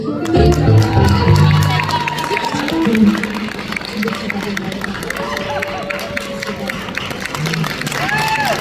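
Concert audience applauding and cheering as a performer is welcomed on stage, a broad wash of crowd clapping with music and voices underneath, loud and steady throughout.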